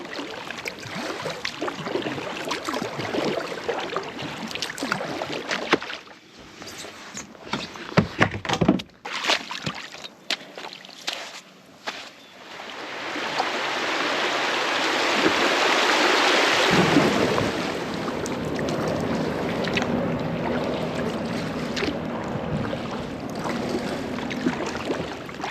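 River current flowing around a kayak on a long paddling trip, a broad steady wash of moving water with intermittent paddle splashes and knocks, rising to a fuller rushing hiss midway.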